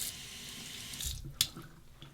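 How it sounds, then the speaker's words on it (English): Tap water runs over a shaving brush, a soft steady rush that briefly surges and splashes before settling, close and quiet with no talking. "Also, the brush under the water."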